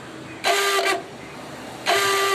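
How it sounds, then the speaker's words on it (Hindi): A Hero HF Deluxe motorcycle's faulty self-starter makes a harsh, whirring grind in two separate bursts, each under a second long, loud and close with a short pause between them. "हमारे पास ये HF डीलक्स बाइक है, इसका सेल्फ आवाज़ कर रहा है।"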